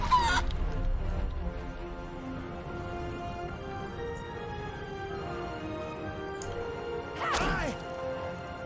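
A chicken clucks and squawks after a polymorph spell in Divinity Original Sin II, heard amid game combat sounds with a crash at the start and a sharp burst of squawking near the end.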